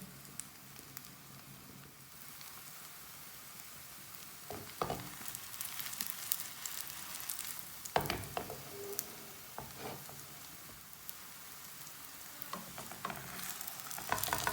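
Radish paratha frying in oil on a pan, a quiet continuous sizzle with scattered crackles, spatters and spatula scrapes that grow busier partway through; no speech.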